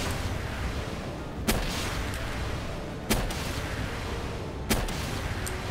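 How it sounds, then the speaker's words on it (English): Grenade launcher firing in the video game Palworld: three sharp booming shots spaced roughly every one and a half seconds over a constant rumbling background of battle noise. "Grenade launcher."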